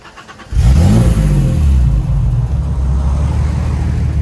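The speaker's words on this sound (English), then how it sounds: "So we'll see in a minute what that sounds like." A BMW E30 325i Cabriolet with an EMP stainless exhaust cranks and catches, a loud close burst of revs settling into a steady, throaty idle.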